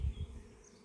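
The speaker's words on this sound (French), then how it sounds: "Ici, localement, c'est l'abeille noire." Local black honeybees hum softly at the hive, a faint, steady buzz close by with low rumbling handling noise at the start.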